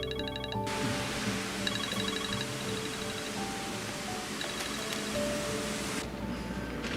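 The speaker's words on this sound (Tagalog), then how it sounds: "Tumatawag si Yuli." Mobile phone ringtone for an incoming call, a repeating electronic melody of short tonal beeps over steady background hiss, moderately loud and continuing for several seconds with no voices.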